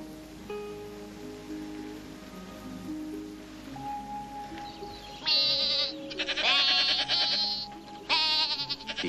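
Goats waiting to be milked bleat loudly at close range in a series of wavering calls, over a steady low background of music.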